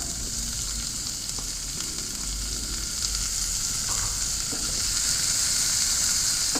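Garlic and onion sautéing in a pan, a continuous loud sizzle with occasional soft stirring scrapes, close and steady throughout with no talking.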